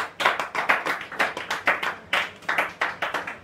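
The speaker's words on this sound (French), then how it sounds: "on acclame le Seigneur Jésus-Christ" A church congregation claps in a steady rhythm. The sharp, close hand claps come in an even pulse of about three per second and run alone with no voices.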